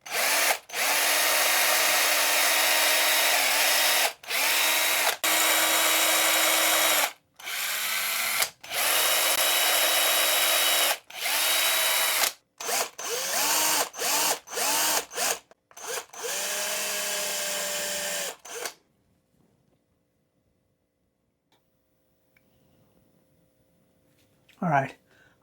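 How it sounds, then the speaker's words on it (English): A power drill bores holes for hook hangers and a tie-on eye in a handmade fishing lure body. The motor whines loud and close in repeated bursts with short pauses, then stops, and near-silence follows. "And I'm just going to drill all this stuff out."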